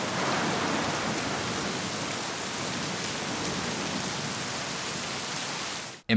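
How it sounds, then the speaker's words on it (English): Steady rain pours in a dense, even hiss of falling drops that holds unchanged for about six seconds before cutting off abruptly. "whether that's adding some rain"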